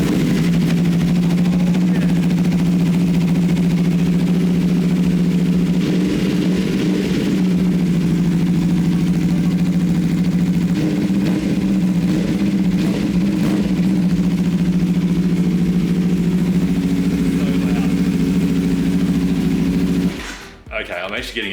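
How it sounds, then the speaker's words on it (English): Aprilia RSV4 RF motorcycle fitted with an AR Racing exhaust, idling close by with a steady, deep burbling drone that runs unbroken for about twenty seconds before cutting off abruptly near the end. "Like that AR Racing exhaust sounds awesome."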